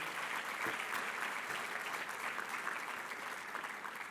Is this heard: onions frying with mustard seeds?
no